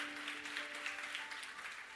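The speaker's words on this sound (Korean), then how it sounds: "우리 다시 한번 하나님 앞에 감사의 박수 올려드리도록 하겠습니다" Church congregation clapping together in thanks during a Sunday service at a Seoul church, a steady bright wash of many hands with a sustained tone underneath.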